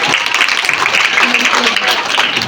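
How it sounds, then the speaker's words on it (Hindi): A crowd of schoolchildren claps at a school function in Dhamangaon, steady, close and loud applause filling the whole stretch, with some talking blended underneath. "तालियां बजाओ।"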